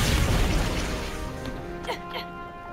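Guns firing in Tiny Tina's Wonderlands: a heavy booming blast rings out and slowly decays, followed by a couple of quieter pops, with talk underneath.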